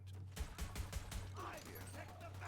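Rapid pistol fire from a Jakobs pistol rattles off in a short burst of sharp, evenly spaced shots in Borderlands 3, followed by softer game noise and a low background hum.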